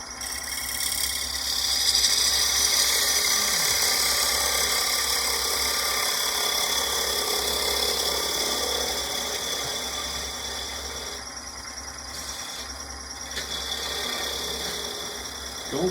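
A wood lathe hums steadily up close as a tool turns a wooden jar lid, a constant motor drone with light scraping and cutting that rises and eases, and no talking.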